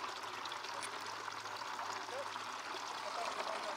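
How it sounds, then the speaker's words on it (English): Water flowing at half flow through a gold mining sluise setup, rinsing material down into a final bowl; a steady, even rush of running water throughout, close and continuous. "Bringing on the flow at the half flow. Half flow. Nice. Just rinsing it down into the final"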